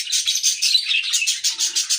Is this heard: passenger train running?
no